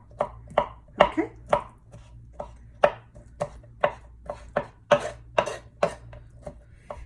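Canned jackfruit being finely chopped on a board with a knife, a steady run of close, crisp, evenly spaced blade taps against a low hum, with no talking.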